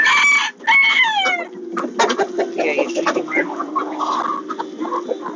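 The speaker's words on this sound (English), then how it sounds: "So here's some of the chickens inside." Chickens cluck and squawk close by in a busy, continuous chorus, with a few sharper calls rising above the steady murmur of the flock.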